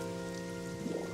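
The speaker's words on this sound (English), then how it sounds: "I kind of like the rain sound effects" Rain sound effect in a video game: a steady, close hiss of rain on a surface with a low tonal hum of background music beneath it.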